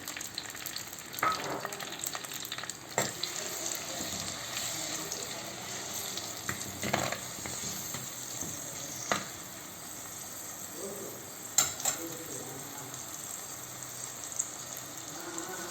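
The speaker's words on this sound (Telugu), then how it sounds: "ఫస్ట్ ఉల్లిపాయ పచ్చిమిర్చి వేపుకోవాలి" A paste of onion and green chilli fries in a pan, giving a low, continuous sizzle with scattered stirring clicks and scrapes throughout, fairly quiet and with no voices.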